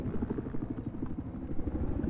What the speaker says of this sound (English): Oh, there's an attack helicopter right there.